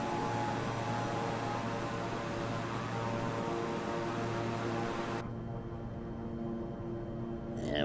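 Propeller drone of a Beechcraft airplane climbing out after takeoff in a flight simulator game, a steady loud engine hum with a tonal whine that continues throughout, its upper hiss cutting away partway through.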